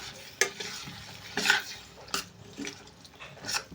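Broad bean (flat bean) curry being stirred in a pan just after milk is poured in, a few scraping strokes of a spoon at irregular intervals over a soft simmering bubble.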